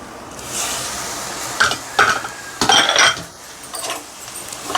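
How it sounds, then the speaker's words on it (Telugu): Sliced onions and green chillies fry in a pan for an Andhra-style curry, with a light sizzle under several sharp clinks and scrapes of a spoon against the metal. "ఇలా బాగా ఉల్లిపాయలు పచ్చిమిరపకాయలు వేగిపోయిన తర్వాత"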